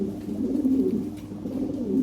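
A Toy Lahori pigeon coos close by, soft throaty rolling calls repeating in a gentle rhythm with no talking.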